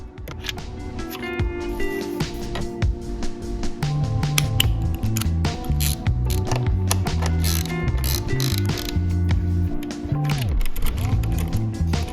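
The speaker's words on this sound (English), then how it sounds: "we just need an 8mm socket and a Phillips screwdriver" Ratcheting clicks from an 8mm socket ratchet fastening billet radiator guard bolts on a 2022 Kayo K6 EFI dirt bike, repeated bursts of close mechanical clicking over a steady low background.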